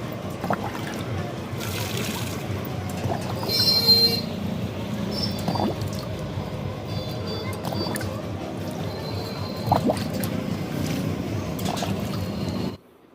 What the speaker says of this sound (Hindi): इधर फिर आ गई थी मैं पेड़ों में पानी डालने